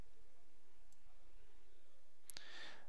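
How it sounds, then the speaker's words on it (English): A single sharp computer mouse click, close and crisp, stands out near the end against quiet room tone, with a fainter tick earlier. "Click again and drag the mouse over to here, and then I'll click and drag it to the corner."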